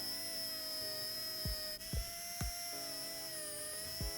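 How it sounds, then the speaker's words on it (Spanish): A steady high-pitched whine of a Dremel rotary tool polishing a vintage Seiko 5 watch case with polishing paste runs throughout, with a few brief low thumps as it touches and lifts off. "vamos a empezar a pulir con la pasta pulidora y con la Dremel"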